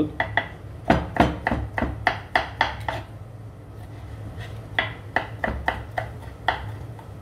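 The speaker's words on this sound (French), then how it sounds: "On va les tailler en brunoise." A knife cutting vegetable hearts into fine brunoise dice on a cutting board: rapid, crisp, evenly spaced chops in two close bursts separated by a brief pause.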